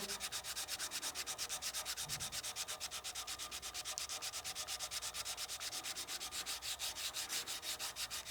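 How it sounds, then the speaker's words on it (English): Fast, even back-and-forth rasping of 320-grit sandpaper on a turned wooden whistle, steady and close, continuing without pause and with no voices. "Now we'll go to our 320 and just finish sanding this."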